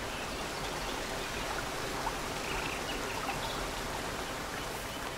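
A waterfall in the Road 96 video game rushes as a steady, dense wash of water noise, even and continuous throughout with no talking.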